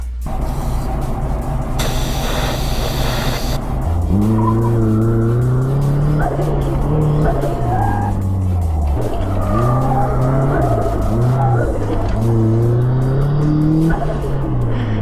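A car driven hard around an autocross course, its engine note rising and falling through gear changes while the tires squeal in long skidding bursts, loud and close throughout.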